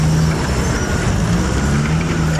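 Heavy machinery drilling for fossil fuels, a loud steady low-pitched engine rumble with grinding noise, holding constant throughout without pause.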